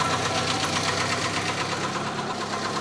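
Carbureted Opel Ascona engine with an automatic choke running, its steady close induction roar and pulsing hum holding constant and loud without speech.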